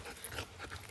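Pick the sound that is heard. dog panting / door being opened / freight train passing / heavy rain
dog panting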